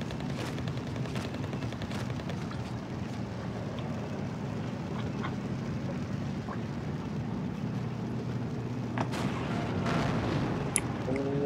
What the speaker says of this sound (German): Panzer 4 wird jetzt auch noch von unten beschossen, vom Sherman und der Wolverine